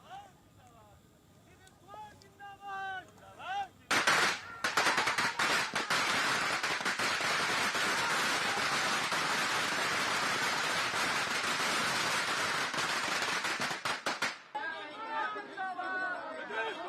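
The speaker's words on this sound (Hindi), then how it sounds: "समर्थकों ने पटाखे फोड़कर और जश्न मनाकर जीत का आनंद लिया।" Firecrackers burst at a party headquarters celebrating an election victory, a dense, loud crackling barrage lasting about ten seconds, with crowd chatter before and after.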